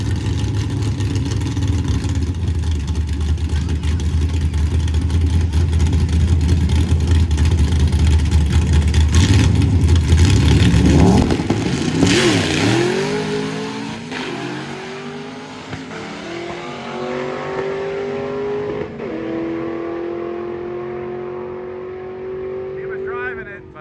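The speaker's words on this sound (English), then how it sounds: "Nitrous stick shift Ford Ranger." A nitrous-equipped stick-shift Ford Ranger pickup at a drag race, its engine droning loud and steady, then revving hard and pulling away with rising, stepped gear-change whines that fade into the distance.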